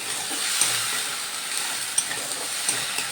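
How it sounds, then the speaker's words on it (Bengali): Ginger paste sautéing in a pan with green jackfruit masala, a soft steady sizzle with a few sharp spoon taps on the pan, close and fairly quiet, no voices. "আদা বাটাটা দিয়ে আবার ভালো করে কষিয়ে নিতে হবে।"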